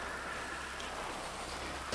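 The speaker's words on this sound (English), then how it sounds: "That rain is coming" Rain in the video game GTA V, a steady hiss of falling rain on surfaces, even and continuous for the short stretch with no other sounds.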